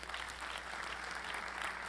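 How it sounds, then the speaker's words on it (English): An awards show audience claps in a continuous, even wave of applause at the Bahamian Icon Awards, heard from a moderate distance. "give a rousing round of applause for Miss Gator"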